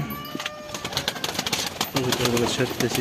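Pet pigeons released in the morning: cooing and fluttering wing flaps mix with bird calls, heard under a person talking nearby.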